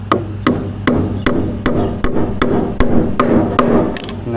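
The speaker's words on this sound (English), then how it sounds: "it's actually a lot faster to hammer in the staple." Roughly ten sharp, evenly spaced hammer blows drive a staple into the handle of a wood bundle, each strike close and loud with a steady rhythm.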